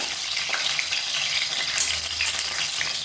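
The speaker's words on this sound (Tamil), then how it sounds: "நல்லா வதக்கி எடுத்துக்கலாம் அந்த கத்திரிக்காயை" Brinjal is sautéed in a pan, producing a constant close sizzle with light crackle and occasional soft stirring movements, heard alone without speech.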